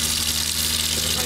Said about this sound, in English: Now here's our sink, and it works just like any other household sink.